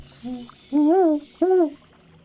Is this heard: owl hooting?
yes